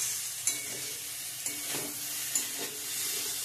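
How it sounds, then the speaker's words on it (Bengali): Cauliflower frying in a pan keeps up a steady close sizzle, broken by three soft scraping stirs spaced roughly a second apart. "ভাজা করবো আজকে, ফুলকপির ভাজা"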